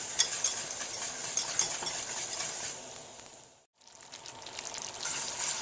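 Steady bubbling and sizzling of a thick sugar mixture for marshmallows boiling on the stove, with faint scraping of a stirring utensil, a brief quiet dip partway through.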